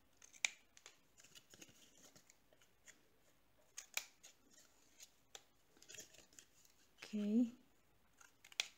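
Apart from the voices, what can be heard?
cutting paper corners for a mini album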